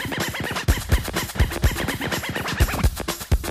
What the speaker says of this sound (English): the proof of his scratching cut shows it